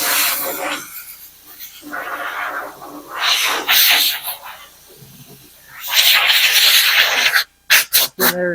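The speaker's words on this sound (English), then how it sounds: "Scuff it up." A Chevy Silverado truck body surface gets scuffed by hand before fiberglass repair, making several close, gritty rubbing passes of uneven length, broken by brief gaps and a few sharp knocks near the end.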